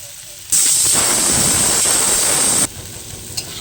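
Fried prawns tipped into a pan of frying taro and potato set off a sudden loud hissing sizzle that holds for about two seconds, then drops back to a quiet bubbling.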